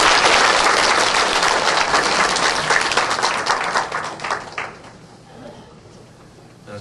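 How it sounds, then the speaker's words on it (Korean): Congregation at a church service applauding loudly and steadily, the clapping thinning out and fading toward the end. "박수로 격려하면 좋겠습니다."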